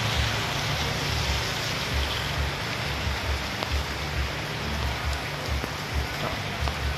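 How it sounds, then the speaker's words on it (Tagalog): Heavy rain pours steadily, a dense continuous hiss of drops drumming on surfaces, with a low rumble underneath and no voices. "Lakas ng ulan."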